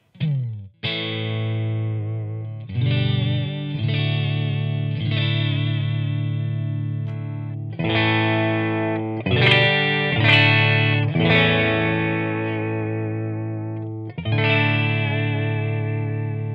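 Clean chords from a Gretsch electric guitar through an AC30 amp impulse response ring out, a series of strummed phrases with sustained decay and occasional brief gaps between them.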